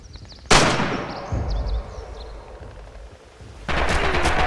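Submachine gun and machine gun fire in a multiplayer video game battle: a sudden loud burst, rattling volleys trailing off, then another sharp burst of rapid gunfire near the end.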